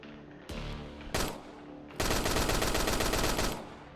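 Video game gunfire erupts while enemies are shot: two short loud bursts, then a longer sustained rapid stream of shots that tapers off, close and dominant with no talking.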